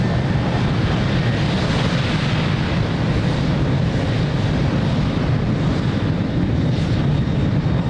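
A jet airliner takes off from runway 02 at Lisbon Airport, its engines delivering a loud, steady, broadband roar that holds evenly throughout with no pauses or talk.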